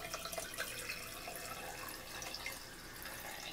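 Homemade sake trickling and splashing as it is filtered into a container, a faint, steady liquid pour with small drips, close and quiet with no talk.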